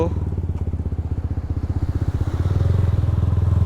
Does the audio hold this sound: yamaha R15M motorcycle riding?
yes